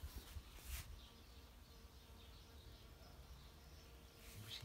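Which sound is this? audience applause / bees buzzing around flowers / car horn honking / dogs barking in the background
bees buzzing around flowers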